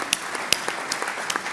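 Audience applause at a press conference for the President Cup in Abu Dhabi, 2017, with scattered sharp claps rising over a steady room hum and no talking.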